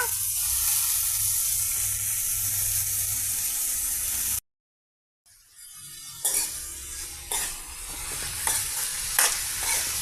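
Ivy gourd pieces frying in hot oil with mustard seeds and curry leaves, giving a dense, loud sizzle up close; after a brief silent cut the frying continues more softly under repeated scraping stirs of a spatula in the pan.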